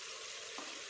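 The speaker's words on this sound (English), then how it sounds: "In here I have 2 pounds of ground beef. Just frying it up." Two pounds of lean ground beef sizzle in the pot of a pressure cooker, a soft, steady hiss of frying with a brief scrape partway through, fairly quiet and with no voice.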